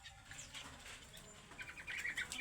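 Small birds at a bird shop kiosk chirp and twitter in quick, faint bursts, growing a little louder toward the end, with soft flutters and no voices over them.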